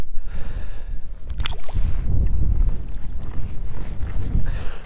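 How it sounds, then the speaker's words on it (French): Wind gusting across a high mountain lake, a steady rushing buffet on the microphone with low rumble throughout, rising and falling in strength, with a brief sharp knock near the start. "Le vent qui se lève un peu là."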